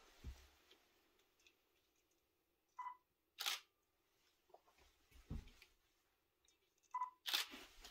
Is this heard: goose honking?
no